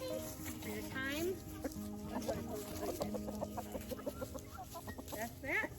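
Chickens on a small homestead cluck in quick, uneven bursts at close range, several birds overlapping against a steady outdoor background, with people talking nearby.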